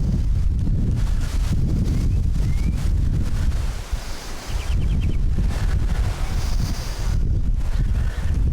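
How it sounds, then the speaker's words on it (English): Strong gusty wind buffeting the microphone, a constant low roar that swells and dips, with faint bird chirps in the background. "Windy day today."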